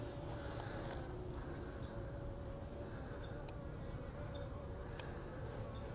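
A hive frame of nurse honey bees gives off a constant low buzzing hum, fairly quiet, with a couple of brief faint clicks over it.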